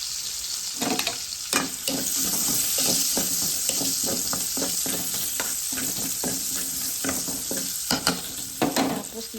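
Garlic frying in pepperoni oil for spaghetti, a continuous close sizzle with frequent utensil scrapes and clicks stirring through the pan, no talking over it.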